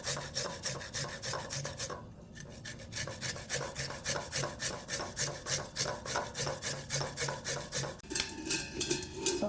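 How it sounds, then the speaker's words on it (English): Peeled fresh ginger is rubbed against a grater with quick, rhythmic rasping strokes, close and fairly quiet, with a short pause near the start before the scraping picks up again. "I'm going to grate my ginger"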